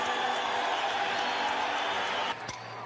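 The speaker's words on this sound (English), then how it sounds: "Listen to the crowd." Large stadium crowd roaring at a World Series baseball game as Reggie Jackson comes to bat, a dense, steady wash of cheering and whoops that dips slightly near the end.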